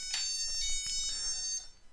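An Infinity Commander system raises an alarm, a high electronic tone sounding in a quick pulsing pattern that is fairly quiet and stops abruptly.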